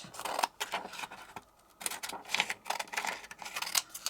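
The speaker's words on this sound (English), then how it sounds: "So I'm going to grab my scissors and then we're going to cut around" Scissors snipping through card during card making, a run of short dry cuts in irregular bursts with brief pauses, close and fairly quiet, with no talking.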